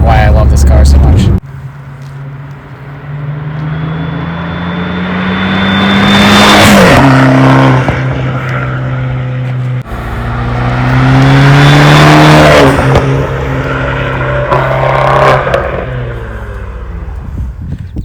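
Fiat 500 Abarth engine revs and accelerates hard through two long rising pulls, the pitch climbing then dropping at each gear change, loud and close with a raspy, screaming edge, while a person talks over parts of it.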